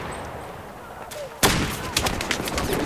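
Gunfire in the video game Battlefield 4: after a quiet lead-in, a loud sudden shot cracks out, followed by a rapid series of further shots and echoing reports.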